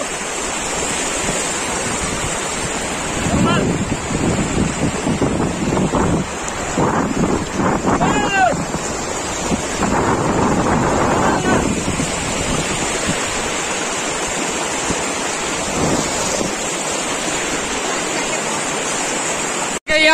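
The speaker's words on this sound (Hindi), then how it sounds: "अभी हम लोग पहुंच गए पूरा नदी के करीब, और यहाँ पानी का बहुत ही ज्यादा साउंड है" Water rushes loudly and continuously past a riverbank on the route from Shantipur to Pasighat, a broad roaring wash with gusts of wind buffeting the microphone and faint voices in the background.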